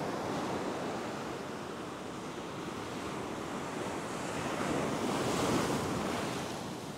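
Waves wash steadily over a sandbar on an open surf beach, a continuous loud roar of breaking water with wind noise on the microphone and no speech.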